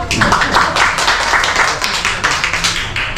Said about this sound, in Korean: 박수부터 쳐야 되죠?